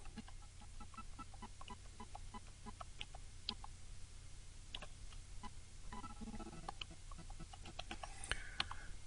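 Computer keyboard keys are pressed in scattered single taps over a low steady hum, with faint clucking chickens and other soft background sounds mixed in.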